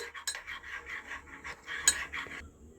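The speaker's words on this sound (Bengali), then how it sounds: "এটা সবসময় নাড়তে হবে" A spoon stirs a cornflour slurry with ground cashew and coconut in a pot, producing repeated close rasping scrapes in an uneven rhythm with one sharper clink near the middle.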